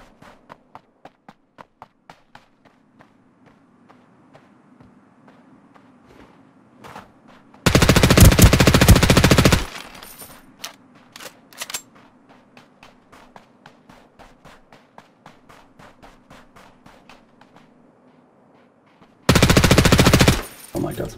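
Gunfire in the shooter Ring of Elysium, two long, loud bursts of rapid automatic fire, one lasting about two seconds and a later shorter one, with quieter footsteps and small clicks spread between them.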